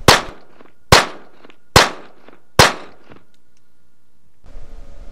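Four suppressed pistol shots fire close and loud at a steady pace about a second apart, each a sharp crack with a quick decay, followed by a brief burst of rustling handling noise.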